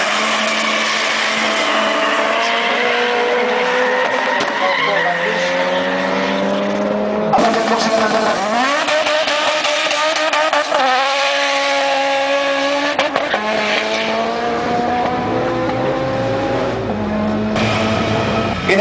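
Drag race cars at a 2009 drag racing championship in Polykastro, Greece, revving and accelerating hard with rising engine pitch that repeats in several loud pulls, mixed with crowd or commentary noise.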